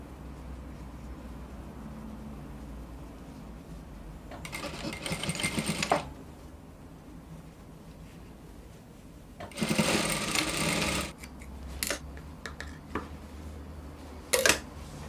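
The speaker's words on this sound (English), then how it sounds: "I'll fold half inch in and then I'll fold again and I will make my stitch." Sewing machine stitching a folded half-inch hem on a kimono bubu dress, running in three bursts: a long run, a longer steady run, then a few short jabs, over faint room hiss.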